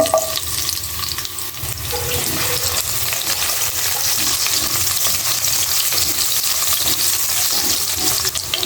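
Carrot and papaya frying with oil and onion in a pan make a loud, continuous hissing sizzle close up, with a faint scraping stir running underneath throughout.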